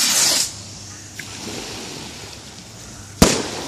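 Skyrocket fireworks go off outdoors: a loud whooshing burst at the start, then quiet rumbling ambience with a faint pop, followed by a sharp crack near the end.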